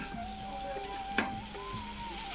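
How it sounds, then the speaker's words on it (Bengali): Chicken pieces fry with spices in a rice cooker and are stirred, giving a steady close sizzle with a soft scrape of the spoon through the short moment. "চিকেনটা আমি নেড়ে চেড়ে মিশিয়ে নিচ্ছি।"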